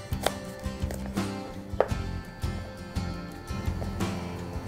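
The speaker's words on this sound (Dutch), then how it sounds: "Die snijden we door de helft." A knife cuts a yellow carrot in half on a cutting board, with sharp chopping knocks and thuds close by, several cuts in irregular rhythm.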